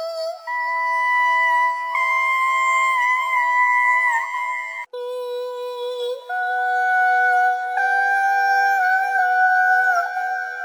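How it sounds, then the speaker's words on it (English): Chopped ethnic vocal sample from the Arcade Waking Dreams bank, used in a dark trap beat: sustained, wavering sung tones in short phrases that step between pitches, with a brief cut near the middle, loud and upfront with no talking. "I got this vocal which I chopped it up and now it sounds like this."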